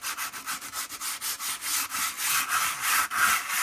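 Sandpaper rubbed gently back and forth over layered decoupage napkin, a close, loud rhythmic scratchy swish repeating about three times a second, with no talking.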